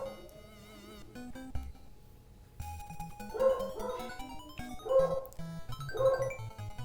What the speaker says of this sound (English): don't mind my dog. She's just loud for the sake of being loud